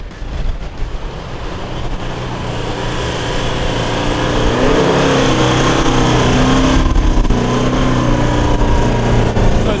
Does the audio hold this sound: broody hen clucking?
no